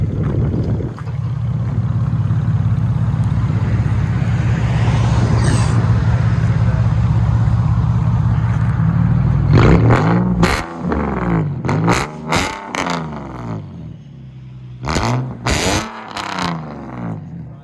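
An Infiniti/Nissan car engine roars loudly at a sustained high idle, then revs in a series of sharp, punchy blips that rise and fall, very close.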